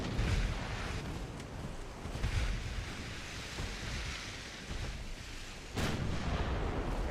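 A warship's secondary guns fire in the naval game Ultimate Admiral Dreadnoughts, heavy booms rolling beneath a constant roar of sea and wind, with a louder blast near the end.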